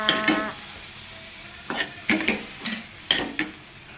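Sweetcorn frying in a pan while being stirred, with soft sizzling under a series of scraping strokes in an irregular rhythm, close up and with no talk.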